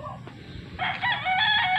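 A rooster at a Philippine gamefowl farm crows once, loud and close, a drawn-out cock-a-doodle-doo rising over a low rumble of background noise.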